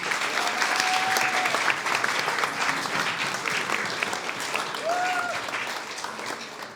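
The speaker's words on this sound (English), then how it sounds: "Another round of applause, please, everyone." Sustained applause from an audience at a clan chief recognition ceremony, a dense even clapping that carries through the whole span with only slight fading.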